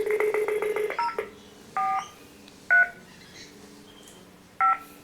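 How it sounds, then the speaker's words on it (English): Telephone keypad dialing tones: a quick run of about seven short beeps, then three more single beeps spaced apart, crisp and close with no talk. "I'm going to try ringing Anup Joseph."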